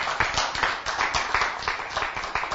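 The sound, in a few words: audience clapping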